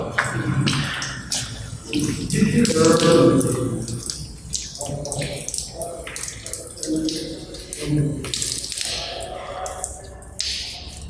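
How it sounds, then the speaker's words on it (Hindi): Tap water runs and splashes as a man washes his feet during ablution at a Jamia mosque in Urgench, Uzbekistan; a steady close stream with uneven splashes, mixed with voices. "वो शख्स पानी उतना इंतज़ाम इस्तेमाल कर रहा है जितना उसके पाँव की ज़रूरत है।"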